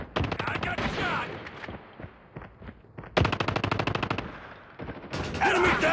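Rapid automatic gunfire in the multiplayer shooter Call of Duty: Mobile comes in several loud bursts of machine-gun fire separated by short gaps, with a brief voice line in between.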